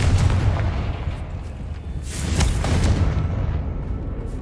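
Confringo fire spell blasting in the video game Hogwarts Legacy, a loud, deep, rumbling explosive boom with a sharp crack midway and a fading roar, heavy in the low end.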